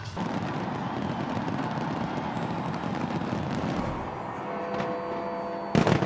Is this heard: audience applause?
no